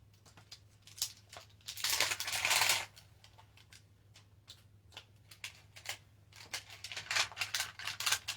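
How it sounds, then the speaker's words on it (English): Scissors snip around small stamped paper hearts, a close run of quiet crisp cuts and paper rustles, with a louder burst of crinkling partway through over a low steady hum. "we're going to cut them out in a minute as well."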